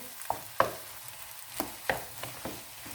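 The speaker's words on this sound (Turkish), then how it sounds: "Karıştıralım şu şekilde" Spiced potato filling being stirred in a pan, with several sharp scraping strokes of a spoon spaced irregularly, close and clear over a soft background hiss.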